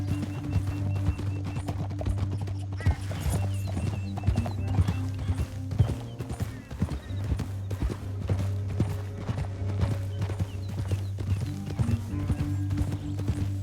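Rapid clip-clopping hoofbeats of galloping horses in the video game Red Dead Redemption 2 drive on continuously over a low rumbling hum, with a horse whinnying faintly in the mix.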